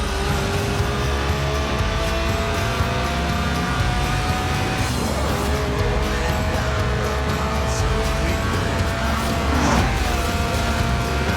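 Lotus Elise Sport 190, a tuned, stripped-out mid-engine rear-wheel-drive roadster, driven in the video game Forza Horizon 4: a steady engine drone with shifting gear tones and brief tire squeals, loud and continuous throughout.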